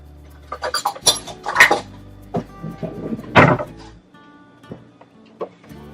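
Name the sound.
adding chopped onions and ginger garlic paste to pan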